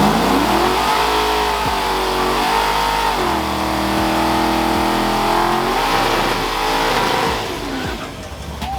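A car engine at a car meet revs loudly and continuously up close, pitch swelling and dipping through several throttle pulls before easing off near the end.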